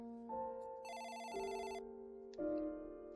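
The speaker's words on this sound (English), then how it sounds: "but the phone gave a shrill ring" A telephone gives a shrill electronic ring, a few bright warbling bursts of tone in an uneven pattern, clear and alone with no talking.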